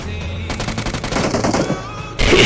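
Rapid automatic gunfire from the battle-royale video game PUBG/BGMI comes as a dense, loud burst of shots that ends in a heavier blast.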